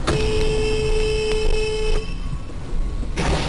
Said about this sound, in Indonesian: bunyi klakson mobil.